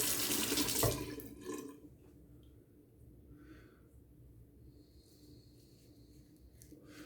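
Tap water runs into a bathroom sink to wash shaving soap away, a steady close splash that starts strong and then settles into a softer, continuous trickle.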